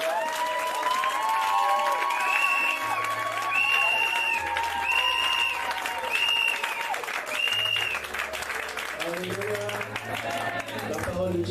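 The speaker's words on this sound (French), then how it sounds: "Est-ce que tu peux acclamer pour toi et pour toi?" A church congregation at a Sunday worship service claps and cheers in a steady wash of applause, mixed with music and voices throughout.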